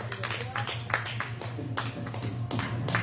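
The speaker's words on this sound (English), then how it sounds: "Clap for Zach, everybody" Audience clapping for comedian Zach Van Gessel at a rated-R comedy show, a steady patter of many hands over a constant low hum, fairly close and even throughout without clear voices.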